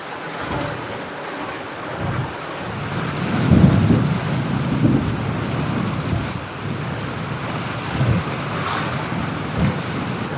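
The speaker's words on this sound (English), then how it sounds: "very choppy and windy" Gusting wind buffets the microphone while choppy sea water sloshes and slaps nearby, a loud, continuous rough roar with occasional surges.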